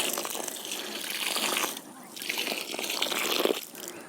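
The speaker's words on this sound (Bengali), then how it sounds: "লিটার খানিক জল আমরা দিয়ে দেব" Water pours and gushes into a planting hole dug for a guava sapling, a steady broadband splash with a brief break midway before flowing again.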